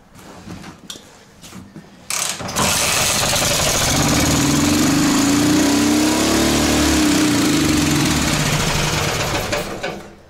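A Ural Dnepr motorcycle engine running rich starts up after a few sputtering attempts and settles into a loud, steady, throbbing idle close by, then drops away at the end.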